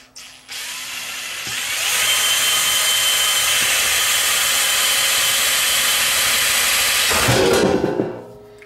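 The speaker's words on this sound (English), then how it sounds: "We'll drill it out and see if we can" A power drill bores through the strain relief on a Denon amplifier chassis, a loud, steady whir that holds for about five seconds before cutting off, with a short spin-down at the end.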